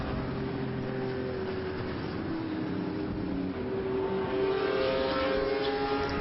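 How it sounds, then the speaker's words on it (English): An air-cooled flat-six Porsche 911 racing engine revs and drones steadily with a rough, throaty exhaust note, growing a little louder toward the end. "could only be a Porsche 911, couldn't it? Listening to that,"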